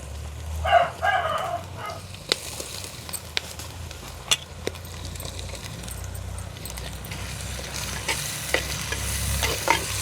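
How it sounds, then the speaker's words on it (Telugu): Ginger paste and tomatoes fry and are stirred in a pan for mushroom biryani, a steady close sizzle under repeated sharp scrapes and taps of a spoon against the pan. "అల్లం పేస్ట్ అయితే ఎర్రగా వేగిపోయింది టమాటా వేసేద్దాం"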